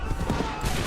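A musket volley in the video game Assassin's Creed III makes a brief, loud, dense burst of gunfire that rolls as one massed crackling blast.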